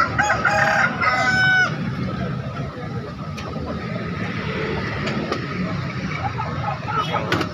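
A Bangkok-breed rooster crows loudly and close by at a poultry market in Makassar, followed by clucking, market bustle and people talking.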